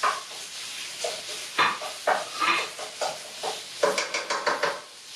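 Turkey cooking in a pan, with a soft sizzle under repeated scraping and stirring strokes of a utensil against the pan, close and moderate in level, coming in uneven bursts.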